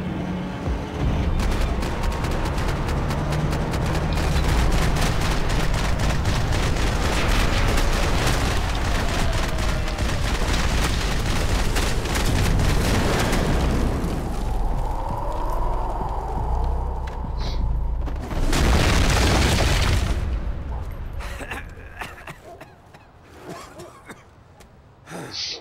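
Gunfire and explosions from the video game Max Payne 3 (Xbox 360), a dense, loud barrage of shots and blasts sustained almost throughout, with bursts of noise later on, while voices shout over the fighting.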